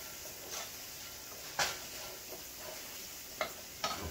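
Black pepper being stirred into cornmeal in a pot, a quiet background hiss broken by a few soft knocks and scrapes of a spoon against the pot, no voices.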